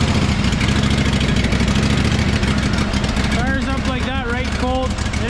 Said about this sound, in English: Little gasoline motor. This thing will actually start up when it's minus 30 outside without plugging anything in.